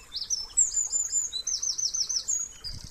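Outdoors beside a small stream in spring, a songbird sings bright, rapid warbling trills and chirps close by, clear and steady, with a faint low thump at the end and no talking.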